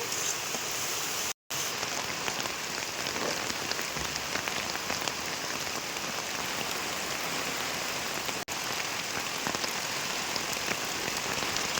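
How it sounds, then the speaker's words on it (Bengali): Heavy rain pours down steadily, a dense unbroken hiss of drops hitting surfaces, with a brief dropout near the start. "রান্নাটা করতে করতে আজকে প্রচুর পরিমাণে ঝড় বৃষ্টি শুরু হয়ে গেছে।"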